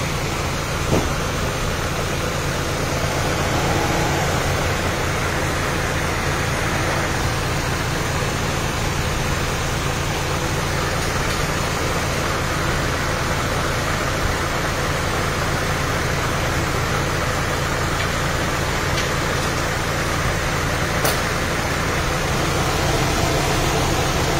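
A repaired Mitsubishi Cedia engine idles quietly and steadily, a smooth even hum with no knocks or surges and no talk, lasting the whole stretch.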